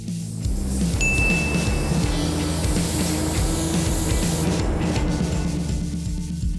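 A spray gun lays a paint coat on a 1970 GTX 440 six-barrel four-speed, giving a steady, unbroken hiss over a low hum for the whole stretch, loud and close.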